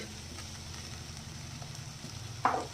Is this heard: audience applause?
no